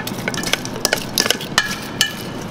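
Chicken wings are tossed with olive oil and cheese, giving quick clinking taps and wet stirring scrapes in an uneven rhythm, close and fairly loud, with no talking.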